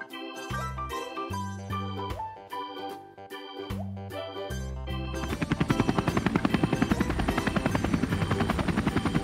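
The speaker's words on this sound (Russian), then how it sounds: "Это вертолетик Хейли" A Robocar Poli Helly toy helicopter plays a bouncy electronic jingle, then switches to a loud, steady, fast-chopping rotor buzz that continues to the end.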